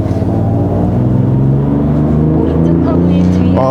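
A Genesis GV80 3.0 diesel AWD SUV engine drones loudly and steadily in sport mode, its pitch climbing gradually as the revs rise, with a voice talking faintly underneath.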